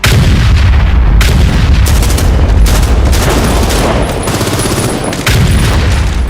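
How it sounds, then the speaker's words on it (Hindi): An artillery bombardment in a war film depicting shelling near the border: loud, dense, continuous booms and blasts pound one after another, filling the whole stretch with heavy rumbling fire. "पाकिस्तान ने बॉर्डर के नजदीक हमारे ठिकानों पर जबरदस्त बमबारी शुरू कर दी।"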